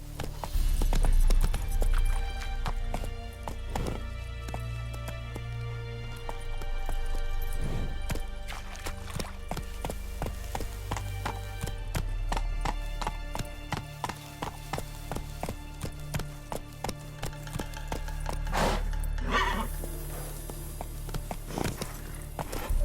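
Geralt's horse Roach in The Witcher 3: Wild Hunt clops along with steady rhythmic hoofbeats over a music score, a neigh or two breaking through now and then.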